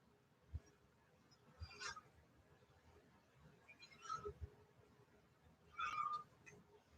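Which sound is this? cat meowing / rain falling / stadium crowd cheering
cat meowing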